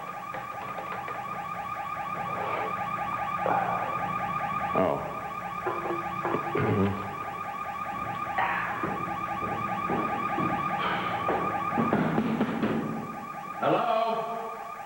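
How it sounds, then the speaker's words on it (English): A car alarm keeps cycling through its warbling tones while scattered knocks and movement noises sound nearby, and a voice briefly exclaims once. "Probably a false alarm."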